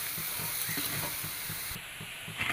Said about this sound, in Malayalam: തക്കാളി ഇട്ട് കൊടുക്കാം ഇതാ പച്ചമുളക് ലേശം മല്ലിയില കറിവേപ്പില ഇട്ട് കൊടുക്കാം ഇതെല്ലാം കൂടി നന്നായിട്ടൊന്ന് മിക്സ് ചെയ്ത് കൊടുക്കണം